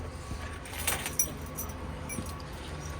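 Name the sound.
RV trailer keys jangling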